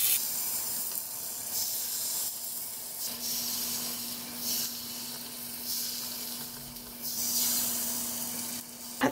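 Thin, runny batter pours into a lightly oiled takoyaki pan to make Korean pulppang. A soft, steady sizzle and hiss continues evenly throughout, faint and with no talking.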